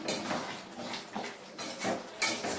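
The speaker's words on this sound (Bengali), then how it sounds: "চানা মশলাটা দিয়ে একটু নেড়ে দেব।" A spoon clatters and scrapes against a cooking pan while stirring chana masala, with several irregular metallic knocks and a sharper clank near the end.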